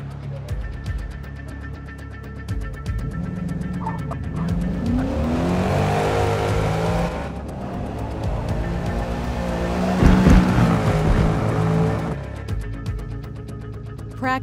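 A race car in the Forza racing game rolls toward the track through fog, its engine droning steadily and rising to a louder surge with tire noise near the end, while a voice speaks over it.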